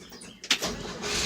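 A 1957 Chevy truck's 235 six-cylinder engine with a three-speed column shift is started: a brief sharp mechanical click and burst, then a rising engine roar, heard close and loud with no talk.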